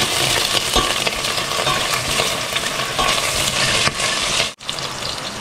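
Ginger dropped into hot cooking oil for frog adobo, a loud, close sizzle with stirring scrapes that runs steadily and then cuts off briefly near the end.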